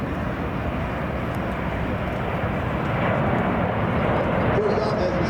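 A Boeing C-17 Globemaster III flies at an air show at Beale Air & Space Expo, its jet engines producing a broad, steady roar that swells slightly, while an announcer talks over it.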